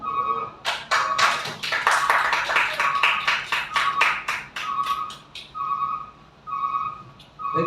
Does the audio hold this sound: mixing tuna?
no